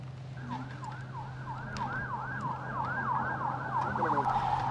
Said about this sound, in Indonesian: Ambulans membawa para korban ke rumah sakit Al-Najda di Nabatiyah, Lebanon Selatan.